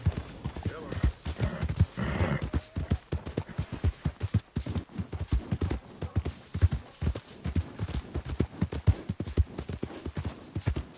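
Horse hooves clip-clop at a steady gallop in Red Dead Redemption 2, loud and close, with an occasional whinny and brief talk among the rapid hoofbeats.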